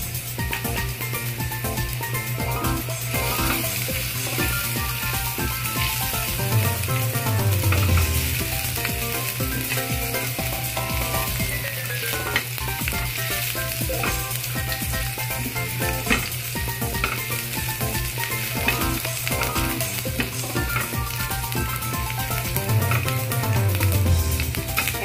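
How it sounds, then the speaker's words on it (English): Minced garlic frying in a hot pan, a dense continuous sizzle with frequent stirring scrapes, loud and close for the whole stretch with no talking. "Pwede na natin ilagay yung ating minced garlic."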